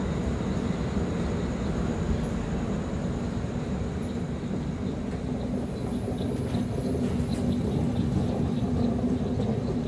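Train passing a railway crossing at night near Murudeshwar on a Karwar to KSR route, a continuous loud low rumble with steady rolling noise and faint higher squeals, sustained throughout without voices.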